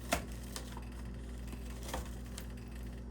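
A knife chopping vegetables such as onion for pozole, a handful of faint, sparse taps on a board over a steady low hum, with one sharper knock near the start.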